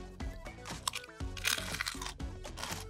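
Close-up crunching of brittle pork scratchings being chewed, with crackly bites coming in quick succession.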